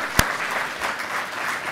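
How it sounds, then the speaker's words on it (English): An audience at a talk on housing for Indigenous populations in Canada breaks into applause, a moderate steady round of clapping with one sharp loud clap near the start. "a round of applause"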